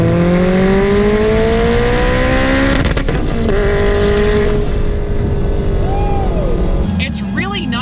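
A 1000HP Subaru STI with a Precision 7275 turbocharger, loud engine drone rising steadily through the revs, then a shift and further pulls, close and dominant, with people talking over it.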